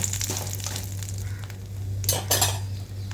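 Chana dal, urad dal, peanuts and dried red chillies fry in hot oil, giving a steady crackling sizzle with a low hum beneath and a couple of sharp bursts of clatter and spatter near the end.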